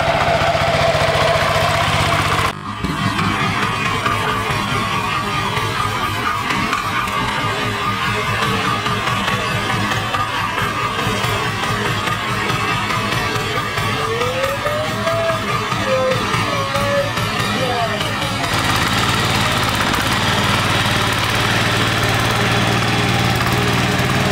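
A power tiller engine runs steadily and loudly while churning soil, a continuous throbbing drone with rattling mechanical texture, close by, with a brief pitch change near the start and a faint voice or whistle partway through.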